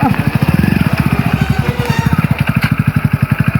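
A new motorcycle engine runs close by with a loud, rapid, even thumping putter that holds steady throughout.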